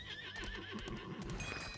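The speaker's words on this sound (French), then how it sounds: "Vous avez vu mon cheval, comme il est trop beau." A horse in the video game Lost Ark neighs, a whinnying call followed by clip-clopping hooves, steady and fairly loud with no one talking over it.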